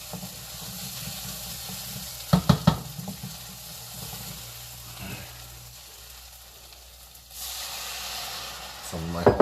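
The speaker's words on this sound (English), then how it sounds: "Some of my homemade lobster stock, deglaze, scrape, scrape, scrape." Homemade lobster stock poured into a hot pan to deglaze it. A soft sizzle and hiss runs throughout, broken by a few sharp scraping knocks near the start and again at the end, with a surge of steam partway through.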